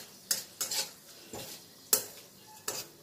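Vegetables being fried in a pan after a spice tempering for chapor ghonto: sharp utensil scrapes and clinks against the pan recur every half second or so over a soft sizzle, close and without voices.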